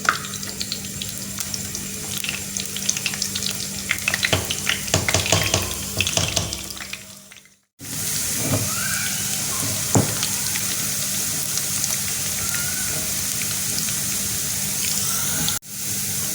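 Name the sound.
onions frying in hot ghee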